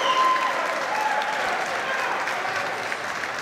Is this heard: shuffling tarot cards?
no